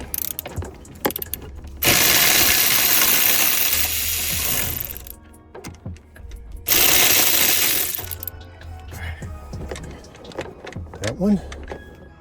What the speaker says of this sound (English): We are gonna take those out using a deep socket.